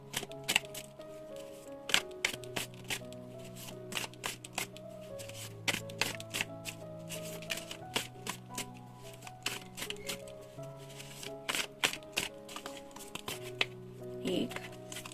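Tarot cards being shuffled and handled, with repeated crisp snaps and riffles over a steady bed of soft background music.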